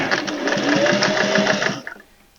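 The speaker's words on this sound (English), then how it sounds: "And you just sew all the way around, 1/8 of an inch away, making sure you close that." A sewing machine top-stitching around a fabric thread catcher, its needle hammering in a fast, even buzz for almost two seconds, close and loud, before stopping abruptly.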